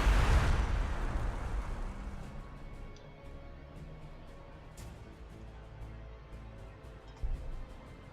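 A grenade explodes in the strategy video game Warhammer 40,000: Gladius. A loud, rumbling boom at the start fades into a low rolling tail, followed by a few faint pops.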